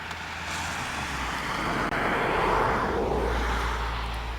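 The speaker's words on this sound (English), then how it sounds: "You're going to see a car go by here" A car drives past on a snowy road, its tire and engine noise swelling to a broad rushing peak midway and fading off, with steady low rumble throughout.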